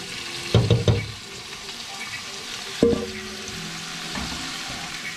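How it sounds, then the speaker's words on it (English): Carrots cook in a pot for turkey soup, a low background sizzle with two louder bursts of stirring and clatter near the start and middle, no voices. "Chilling, cooking the carrots right now."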